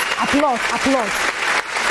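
Studio audience applause on a Ghanaian TV talk show, a steady loud wash of clapping that runs under a voice throughout.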